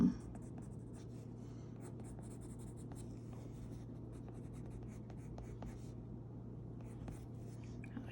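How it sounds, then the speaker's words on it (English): A pencil sketches shaggy dark hair on paper in a fashion illustration, with a soft continuous scratching of quick short strokes, close but faint, over a low steady hum. "So I want to start with my pencil."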